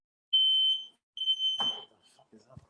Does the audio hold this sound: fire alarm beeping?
yes